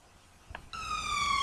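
A brief click, then an ambulance's electronic siren begins wailing with stacked tones, steady and moderately loud, cut off after about a second.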